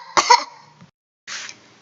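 A cough attributed to a flea in a children's story, heard as a short, harsh burst near the start, then a second breathy cough after a pause, close and clear with no talk.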